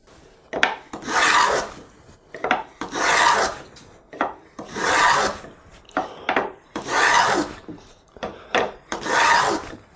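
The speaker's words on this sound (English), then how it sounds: "So I'm going to go ahead and cut the groove in all 4 of these pieces" Repeated rhythmic rasping strokes of a hand tool cutting a groove in a wooden drawer piece, about six steady push strokes with brief pauses, close and clear with no talking.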